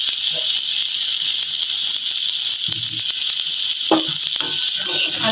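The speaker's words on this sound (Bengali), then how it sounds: "হালকা মিডিয়াম আছে ভেজে নেব" Ingredients for vegetarian pasta, seasoned with turmeric powder and Maggi masala, fry in a pan over medium heat, giving a steady bright sizzle throughout with a few soft clicks and knocks from the utensil near the end.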